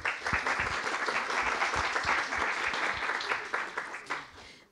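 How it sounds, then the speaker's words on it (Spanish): Applause for the winners at a talk on media and polarization, a lively, dense burst of many hands clapping with some sharp individual claps standing out, sustained for a few seconds before trailing off at the end. "un fuerte aplauso para los ganadores"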